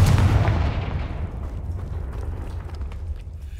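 In the Hogwarts Legacy video game, the Confringo fire spell is cast with a loud, deep explosive boom that rolls out into a long rumbling decay, with no voices over it.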